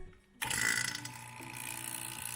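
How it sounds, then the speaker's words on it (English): A vacuum pump switches on with a sudden loud start, then settles into a steady mechanical hum and whir. It is used on an automotive air-conditioning system at a pick-and-pull salvage yard. "So we're going to turn the pump on."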